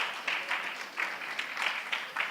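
A church congregation applauding and clapping in rhythmic bursts, steady and moderately loud, with no talk over it.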